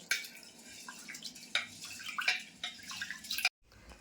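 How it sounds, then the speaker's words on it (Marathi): Homemade parboiled rice being washed by hand in water, with continuous close splashing, sloshing and dripping that stops abruptly near the end, followed by a brief quieter trickle. "आता मी हा दोन वेळा धुवून घेतला आहे तांदूळ"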